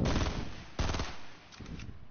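Rapid bursts of video game gunfire, loud and close, with a dense volley at the start, another sharp burst near the middle and a shorter one toward the end.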